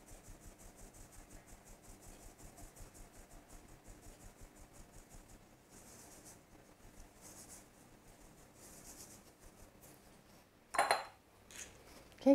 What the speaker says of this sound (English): sieve all the dry ingredients